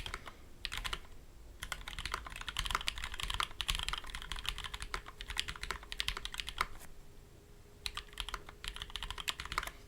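Someone types steadily on a Boardwalk ortholinear mechanical keyboard fitted with GMK Calm Depths keycaps. Rapid, clacky keystrokes run close up for about ten seconds, broken by a few brief pauses, with no talking.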